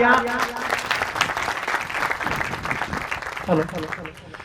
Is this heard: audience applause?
yes